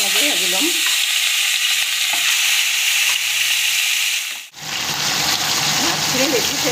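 Constant loud sizzle of shol (snakehead) fish frying in oil in a kadai, with a low hum midway, a brief drop in sound, then a fuller burst of crackling, and faint voice-like tones at the start and end.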